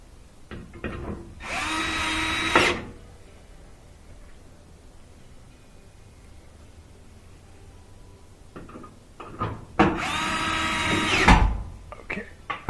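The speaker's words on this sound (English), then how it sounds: "we're gonna put the screws back." Power drill driving screws back into a Whirlpool Duet dryer panel during a squeak repair, two loud whirring bursts of about a second each separated by quiet handling clicks, close by.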